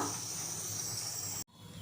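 Pressure cooker with mutton curry releasing steam, a steady loud hiss that cuts off abruptly near the end, close by and alone.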